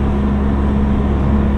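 An old car rolls along the road, heard from inside as a steady low engine drone and rumble with continuous road noise and no break or speech.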